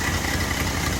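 A Cadillac flathead V8 fitted in a 1945 M24 Chaffee tank, running through an old muffler with the choke on, gives a steady low idling rumble with even mid-frequency engine texture, close and continuous.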